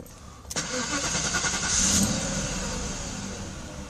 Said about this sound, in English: I can put on the ignition again, can start it up.